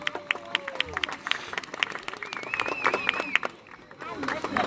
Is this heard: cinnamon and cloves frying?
no